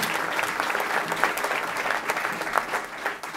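An audience at an Amsterdam urban development event gives dense, continuous applause, a steady roar of many hands clapping at close-to-medium distance with no voices rising above it.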